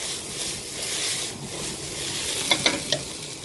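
Onions fry in a pan and are stirred as they begin to brown, making a continuous close sizzle and a few sharp spoon clinks near the end, with no voices.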